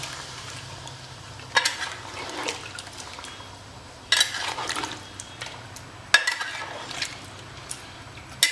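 Water poured into a pot of mutton curry holding 2.5 kg of meat, giving a soft steady splash and gush with a few sharp clinks of the pot in between. No one speaks.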